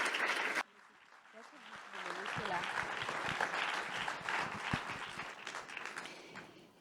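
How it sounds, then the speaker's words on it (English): Audience applause at a film forum panel, a short burst of clapping cut off abruptly after half a second, then a quieter crowd murmur with scattered claps and voices. "A big round of applause for you."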